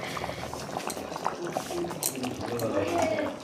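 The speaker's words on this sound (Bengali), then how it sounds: "জলটা ফুটে গেছে অনেকটাই।" Water bubbling in a pan while fish curry cooks, a steady low simmering burble with faint clinks, close and fairly quiet throughout.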